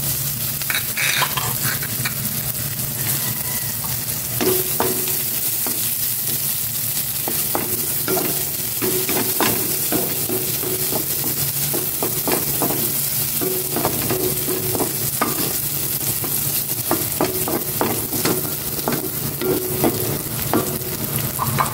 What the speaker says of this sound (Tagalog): Maglagay na ako ng cooking oil para sa ginisang ampalaya. Isabay ko ng ilisa itong bawang sibuyas.